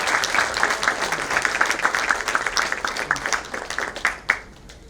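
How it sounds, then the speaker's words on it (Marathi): An audience bursts into steady, enthusiastic applause at a Marathi event launching European tours, dense clapping sustained throughout and tapering with a few final claps near the end. "एकदा जोरदार टाळ्या होऊन जाऊ देत आपल्या सुबोध दादांसाठी"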